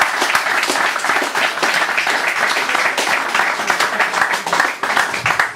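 An audience applauds Isabel Bermudez after her performance, a dense, continuous clapping that fills the room loudly and steadily.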